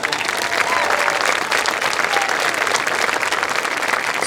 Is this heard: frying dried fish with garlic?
no